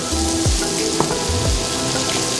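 Leeks sizzle as they cook in a pot for leek and potato soup, a steady, close crackling hiss with a few faint clinks.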